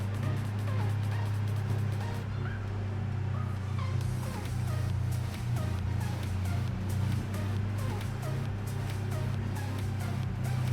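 A car pulls a U-Haul trailer down a dirt road in Farming Simulator 22, producing a steady, low engine drone that stays constant throughout without any talking.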